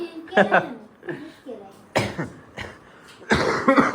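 Several short, harsh coughs come in quick bursts, close and fairly loud, with brief pauses between them.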